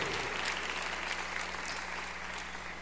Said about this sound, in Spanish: Dele un aplauso al Señor esta noche, iglesia, y déselo fuerte